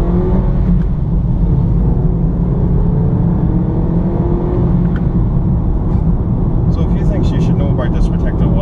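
A 2012 Kia Cee'd TX with a 1.4 litre Gamma MPI petrol engine drives along, its engine hum and road rumble heard from inside the cabin as a steady, continuous drone.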